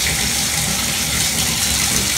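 Hot tap water gushes steadily into a bag packed with mice being prepared as snake food, a dense, even rush of running water filling the space without pause.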